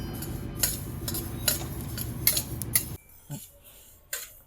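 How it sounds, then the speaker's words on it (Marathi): Flaxseeds dry-roasting in a pan while being stirred, a dense close crackling rustle with sharp metal clinks of the spoon, ending in a few separate taps. "आता हे जवस छानपैकी अशी मस्त खरपूस होईपर्यंत भाजायची जास्त लाल पण होऊ द्यायची नाही"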